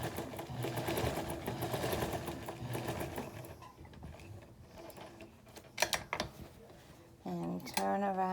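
A sewing machine stitches around a fabric face mask, a rapid mechanical whirring burst that stops partway, followed by quiet handling noises and someone speaking.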